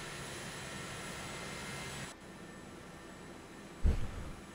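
Boeing 737-200 twin jet in the X-Plane 11 flight simulator, a steady, quiet engine whine and broadband roar that drops abruptly to a softer hum, followed by a brief low thump.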